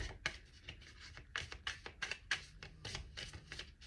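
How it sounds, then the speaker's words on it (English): Tarot cards being shuffled in quick riffles and soft slaps, a close, quiet series of papery bursts with brief pauses between. "Two more shuffles and then I'll pull some cards."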